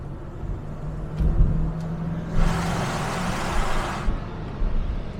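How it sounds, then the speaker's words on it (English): Rover P6 V8 engine burbling after a downshift near a short tunnel, a steady low rumble with a swell of broadband roar midway, heard from inside the car. "that lovely V8 burble, which is absolutely fantastic"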